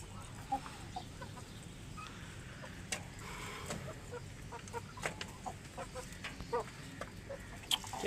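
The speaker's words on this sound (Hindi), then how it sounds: "ये मुर्गा जो मैंने रखा है वाइट मुर्गा" A white rooster clucks softly at a distance, with short scattered clucks over faint background rustling and crackle.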